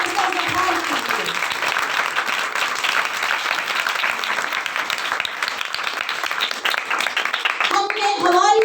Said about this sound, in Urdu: اگر کرتے ہیں تو زوردار تالیوں سے اس کا اظہار کیجیے